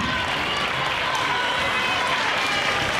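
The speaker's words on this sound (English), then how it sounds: "one more round of applause for dancer number 80" An audience at a Tahitian dance competition applauds a dancer, dense steady clapping from a crowd, fairly loud and unbroken throughout.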